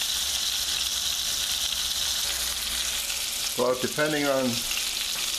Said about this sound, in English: it'll take about 10 to 15 minutes to saute the veal